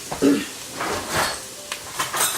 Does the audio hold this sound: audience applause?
no